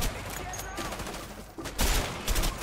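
Automatic rifle fire in the co-op game A Way Out, a dense, continuous fusillade of rapid shots mixed with gunfire-heavy battle noise, steady and loud throughout with heavier bursts near the end.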